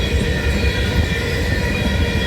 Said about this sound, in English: It's obviously the garbage train.